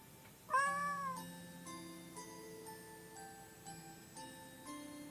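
A cat meows once, clear and fairly loud, in a game cutscene, over a soft steady musical backdrop with faint ticking, then the scene carries on without further calls.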